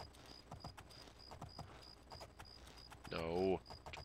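Horse hooves clip-clopping in the video game The Elder Scrolls IV: Oblivion, a steady run of light, evenly spaced hoofbeats under a voice, with a louder burst of sound near the end.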